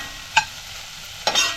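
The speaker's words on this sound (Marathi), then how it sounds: "मसूर पण ना आपण मसाल्यात परतून घेऊया चांगले." Soaked lentils are stirred into a spice mix in a hot pan, giving two short scraping stirs with a soft sizzle between them, close and clear without voices.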